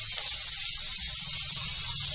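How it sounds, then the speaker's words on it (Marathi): Garlic and green chillies frying in hot oil while making a wheat flour aloo matar kachori filling, a steady bright hissing sizzle with no talk, close and constant throughout. "हे बघा, हे आता आपलं लसूण मिरची चांगली तेलात परतली गेली"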